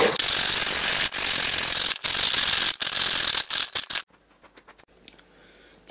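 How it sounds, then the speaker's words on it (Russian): A carrot is grated into long thin strips on a Korean carrot grater, making loud, harsh rasping strokes in quick succession with brief gaps, then fading to faint scraping and handling noises. "Морковь можно потереть на терке для морковки по-корейски."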